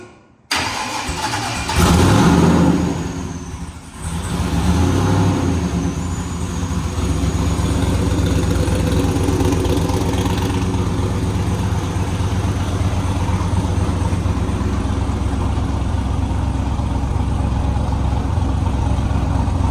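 A twin-turbo LS V8 in a 370 chassis, running on E fuel on a cold day, cranks and catches with a loud burst, then settles into a steady, rumbling idle heard alone and up close.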